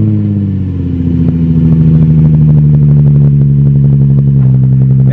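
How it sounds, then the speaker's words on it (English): Nissan 350Z with an ISR single-exit exhaust cold-starting, settling into a loud, steady deep idle with a constant low rumble and light clatter, close by and without talk. "he'll give you guys a cold start."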